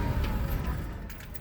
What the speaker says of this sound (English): The truck's still running good.